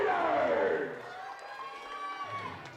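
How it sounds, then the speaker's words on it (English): Crowd at a summer-league baseball game between the Badlands Big Sticks and Casper Spuds giving an ovation: loud cheering and shouting at first, easing into a softer sustained murmur of applause. "Nice ovation from the crowd"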